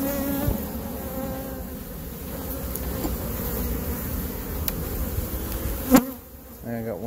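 Carniolan honey bees swarming around a hive frame pulled from the box, a dense, close, continuous buzz with a brief sharp knock near the end and no talk.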